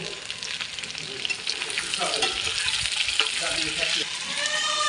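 Chopped ginger and tomato for chilli chicken sizzle and crackle steadily in hot oil in a pan, a close, continuous frying hiss with occasional stirring scrapes.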